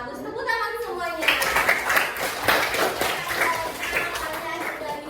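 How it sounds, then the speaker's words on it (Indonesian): A group of schoolchildren in a classroom claps together, a burst of quick, overlapping hand claps that rises after a teacher's voice and carries on through the rest, with faint chatter mixed in. "Bagus, tepuk tangan semuanya"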